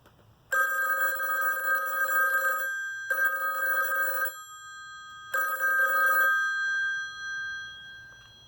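An old telephone with a mechanical bell, made to ring through its phone cord, gives three long loud bursts of metallic trilling, each about two seconds, separated by short silences.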